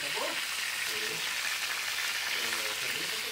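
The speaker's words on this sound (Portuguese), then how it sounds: "estão assando carne, comendo carne com limão." Meat roasting at a countryside farm gathering gives off a steady, dense sizzle and crackle that runs unbroken throughout. Faint voices murmur in the background.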